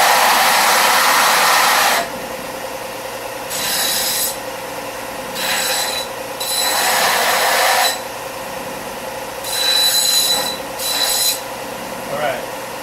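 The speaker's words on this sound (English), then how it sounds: "tell the Cheerio story while you're sanding" Bursts of harsh abrasive rasping from a power sander come and go in several separate passes, with quieter gaps between them.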